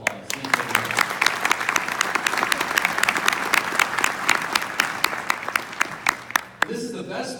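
Audience applause for board members at a 2018 chamber of commerce event, dense clapping from a sizable crowd with sharp individual claps standing out, sustained for several seconds before cutting off abruptly.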